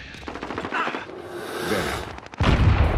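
Gunfire rattles in rapid bursts in Call of Duty Modern Warfare, then a loud grenade blast erupts near the end, close and heavy.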